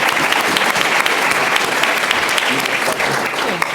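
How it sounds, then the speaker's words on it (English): Steady round of audience applause for a panelist at a Chicago civic panel discussion, dense even clapping throughout with no speech over it. "how about a big round of applause for Dan Mihalopoulos"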